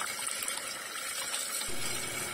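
Water pours and splashes steadily over peeled papaya being washed, a continuous close gushing rush that swells slightly louder toward the end, with no talking.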